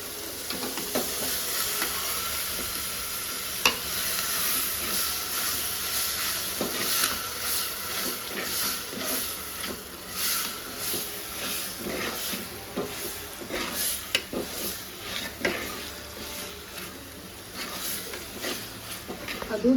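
Mint and coriander leaves stirred and frying in hot oil, a steady sizzle with scraping stir strokes throughout, under a person talking.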